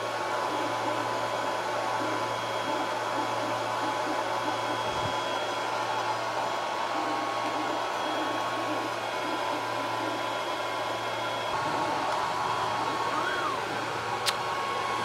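A Longer B1 40W laser engraver running at high speed, a steady whirring hum of fans and motion with faint tonal whines, quiet and continuous throughout with no talking.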